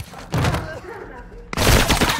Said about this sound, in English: You can break glass for more.